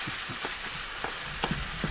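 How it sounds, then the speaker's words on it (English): Sausage browning in a pan with onion and garlic, a soft steady frying hiss with scattered pops and crackles, close and fairly quiet, no voices. "I'm starting to get the sausage in there, starting to brown, mixing it up"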